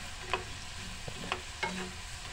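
Chickpeas frying in soybean oil over low heat, a soft continuous sizzle broken by a few light scraping stirs.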